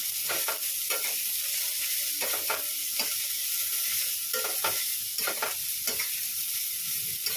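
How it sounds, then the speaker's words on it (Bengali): Sponge gourd frying in a pan over a mustard seed tempering crackles with a constant loud sizzle, broken by repeated scraping strokes of a spatula, with no talking. "ভালো করে লাল লাল করে ভাজবো"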